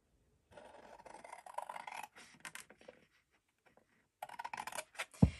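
Scissors cut paper straight up a score line while making a tall explosion-board gift box, giving close, dry rasping snips in two bursts separated by a pause, ending with a sharp click.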